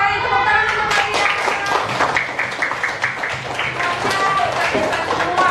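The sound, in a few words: applause for the groups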